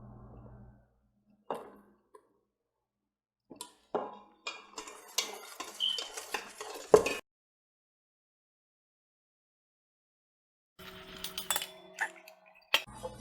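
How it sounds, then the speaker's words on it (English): Mixing milk bun dough of flour and milk in a bowl, a series of light ticks and clinks of a utensil against the bowl in scattered bursts separated by quiet gaps. "So first, just mix until there's no powder."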